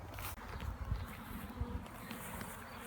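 Honey bees already very active on a frame at a beehive in the morning, a faint, continuous buzzing hum close by with soft rustles and bumps.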